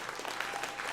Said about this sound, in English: Round of applause to everybody who had a hand in putting this together.